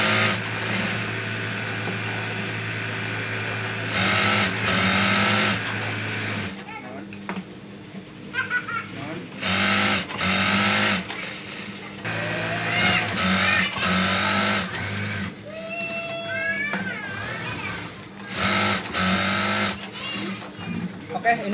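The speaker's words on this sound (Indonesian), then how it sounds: "dan seperti tadi kayak galon juga kita akan jahit dari sini ya" Sewing machine stitching a fabric cover for a water gallon, running in loud sustained bursts with short pauses between runs, while someone talks over and between the stitching.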